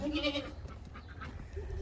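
Goats bleat inside a small brooder house used as a makeshift pen on a farm, with one loud close bleat at the start followed by softer shuffling and fainter calls.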